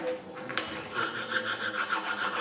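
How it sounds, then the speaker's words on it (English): A sharpening stone rubs across a grinding machine table, giving a harsh, rasping scrape in short repeated strokes, close and clear with no talk. "The harsh sound of the stone rubbing indicates burrs."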